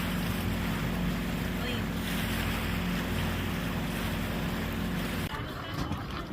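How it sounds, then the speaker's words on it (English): High wind gusting across a Great Lakes harbor, a loud steady roar of wind buffeting the microphone with water and boat sounds mixed in, cutting away abruptly near the end. "Got some high winds today"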